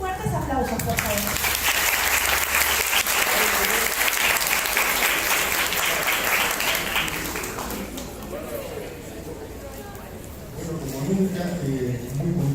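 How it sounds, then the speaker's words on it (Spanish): Audience at a university psychology week event applauding loudly and continuously for several seconds before fading, with a voice speaking over the tail of the clapping. "Fuertes aplausos, por favor."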